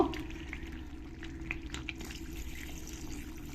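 Water is poured into a pan of sautéed chicken for a curry, making a soft, continuous liquid rush under a low kitchen hum, close by and fairly quiet, with no voices.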